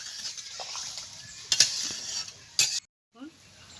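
Water goes into a pan of fried okra with a soft, steady sizzle. Two sharp, louder hissing bursts stand out, along with faint utensil scrapes, and a short silent gap comes near the end.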